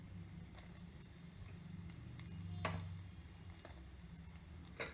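Poppy seeds and turmeric roasting in a pan over low heat, a quiet, steady sizzle and faint crackle with a couple of soft stirring taps.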